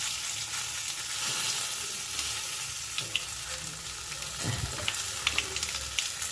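Whole cumin seeds and two bay leaves sizzle in hot oil in a pan, a loud, steady frying hiss up close with a few sharp crackles and pops near the end.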